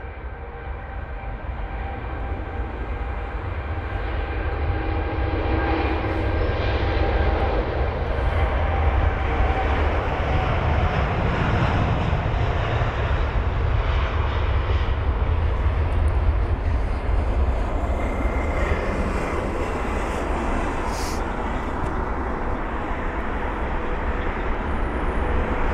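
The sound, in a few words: airliner jet engines at London Heathrow airport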